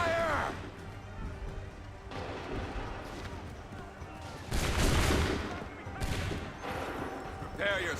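A musket volley booms from ranks of soldiers in Assassin's Creed 3, a heavy rolling crackle of many shots together amid battle noise, with voices shouting orders around it.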